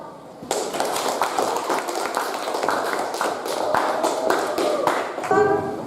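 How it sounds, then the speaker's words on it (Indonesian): Students in a classroom clap for their classmates in a burst of close, brisk applause that lasts several seconds, with a few voices mixed in near the end. "Berikan aplaus dulu untuk teman kalian."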